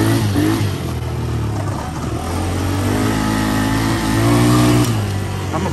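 A 90s Kymco scooter engine on a test ride, loud and close, its pitch dipping and then climbing again as the throttle is worked, with a steady motor hum throughout.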